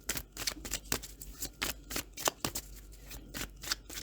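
Close, crisp riffling and flicking of a Happy Tarot card deck being shuffled, a rapid run of sharp papery snaps with no voice over it.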